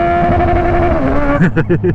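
A Kawasaki motorcycle engine holds a high rev at the limiter, then breaks into rapid choppy bursts as it bounces off the cutoff, loud and close.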